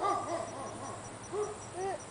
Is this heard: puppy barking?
yes